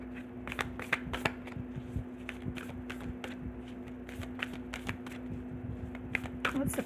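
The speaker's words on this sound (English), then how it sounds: "these cards are hard to shuffle" Tarot cards being shuffled, a series of crisp riffling snaps and flutters repeating through the whole stretch, fairly close, over a steady low hum.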